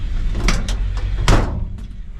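The door of a highboy pickup truck is shut with a solid thump, surrounded by a few lighter clunks and rattles against a steady engine hum.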